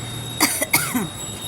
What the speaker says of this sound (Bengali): তারপরে আমার কাশি শুরু হলো